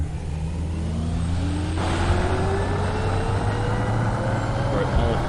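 Jet engine roaring in a flight simulator with F-16, MiG-29 and F-22 fighters, a steady dense rumble with rising whine tones as the aircraft takes off, loud and constant, with a voice speaking over it.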